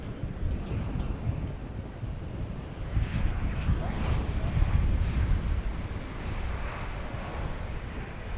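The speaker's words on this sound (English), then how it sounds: "an Airbus A319, American Flight 817 to Jackson," An American Airlines Airbus A319 at Dallas Fort Worth Airport at night, a moderate engine rumble rising toward the middle and easing off, with wind buffeting the microphone.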